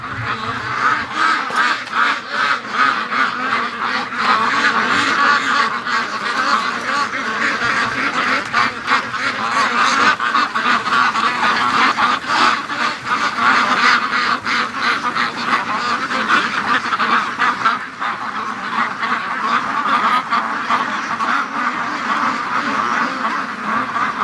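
Free-range ducks quacking and honking continuously, a busy flock close by with overlapping loud calls throughout, with occasional voice in the background.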